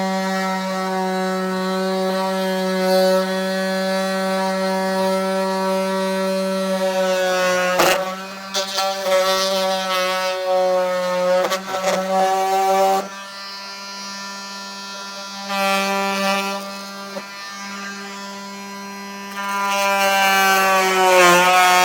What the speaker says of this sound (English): So multi-tool works really good for this.